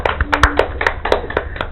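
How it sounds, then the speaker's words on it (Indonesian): A handful of people clap briefly to welcome guests on an Indonesian talk show, sharp uneven hand claps close to the mic that come in quick irregular bursts for under two seconds. "Tepuk tangan dong."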